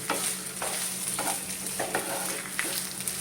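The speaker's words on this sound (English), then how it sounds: "Whilst you are roasting the coconut along with curry leaves" Grated coconut and curry leaves roasting in a pan for sambhar, with a soft continuous sizzle broken by regular scraping strokes of stirring about every half second, close and without speech.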